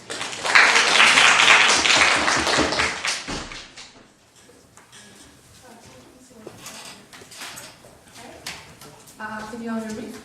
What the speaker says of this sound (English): Once more, give them a round of applause.